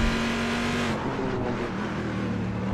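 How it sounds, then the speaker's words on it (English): A Corvette GT race car in a racing video game, heard from outside, revs hard as it crests a rise and gets back on the throttle. The engine note is loud, close and sustained, with a pitch shift partway through. "the Corvette, the exterior sound, yeah, definitely top notch for all of the road offerings that we have"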